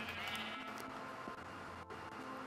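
Sheep bleating in the Minecraft Xbox 360 Edition skyblock survival game, a couple of wavering bleats over low background game ambience, fairly quiet.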